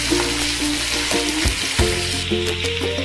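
Potato slices fry in oil with curry leaves and ginger-garlic paste, a loud, close, crackling sizzle broken by a few stirring clinks and scrapes, with no talking.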